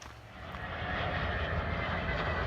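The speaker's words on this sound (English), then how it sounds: "that is the 4th time that same plane has flown overhead, just like that" A fixed-wing airplane passes overhead, a steady broadband engine rumble that swells slightly and then holds at a constant roar with no voices.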